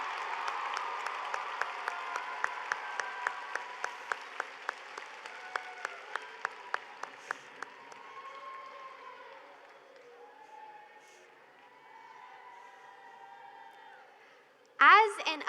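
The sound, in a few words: round of applause from FFA members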